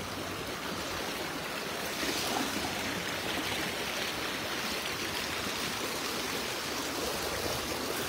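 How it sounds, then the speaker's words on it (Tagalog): A strong river current rushes in a dense, steady wash of water noise at a fishing spot at night, unbroken throughout and moderately loud, with no voices. "Medyo malakas po yung agos."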